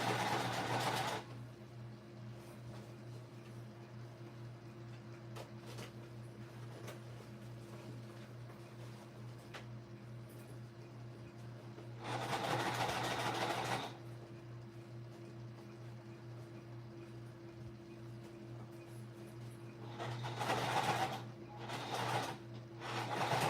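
A sewing machine top stitches a fabric shoulder bag in three runs: a short burst, a longer steady run midway and a final stretch of quick stops and starts, close by over a constant low room hum.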